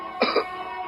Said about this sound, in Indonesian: batuk sekitar 2 kali untuk membuat mereka berdua keluar dari keadaan linglung mereka